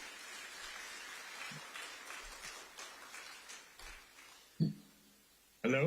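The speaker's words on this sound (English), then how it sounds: "let's give Trustee Archibald a hand of applause" Applause for Trustee Archibald at a talk on the economic future of Liberia comes through as a soft, distant patter of clapping that sounds like light rain, with a couple of louder knocks toward the end.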